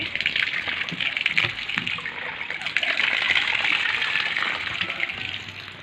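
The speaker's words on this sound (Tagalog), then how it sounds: "Lumalabas na rin ang tubig." Water gushes out steadily with a loud, hissing rush and splashing, fairly close, with no talking.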